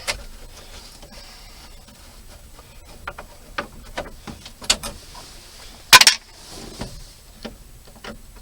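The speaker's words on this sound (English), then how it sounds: "Taking all these screws out." Screws being taken out of a Chevrolet C10 pickup dashboard, heard as faint scattered clicks and small ticks with one sharper metallic clatter midway, close by and quiet, with no talk.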